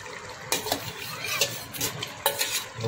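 Fried potatoes are tipped into a pot of chicken biryani and stirred with a metal spoon, giving several sharp scraping clanks against the pot over a soft sizzling background.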